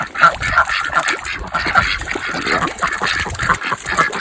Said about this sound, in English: The ducks don't seem to mind it.